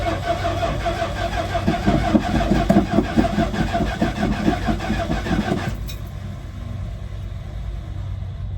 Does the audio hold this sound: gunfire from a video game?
no